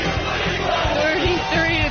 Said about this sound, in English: Happy crowd of Bengals fans.